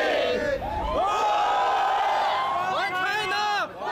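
Pro-Beijing counter-protest crowd in Canada shouting slogans in unison, loud, rising chants that swell and repeat, with a few voices whooping over a close, dense wall of shouting.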